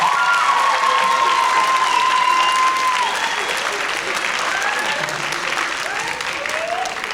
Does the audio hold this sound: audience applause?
yes